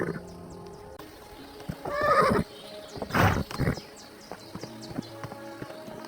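A horse whinnies loudly twice in Kingdom Come: Deliverance 2, the second call shorter, against quiet background tones and faint hoof movement.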